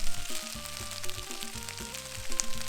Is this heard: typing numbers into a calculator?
no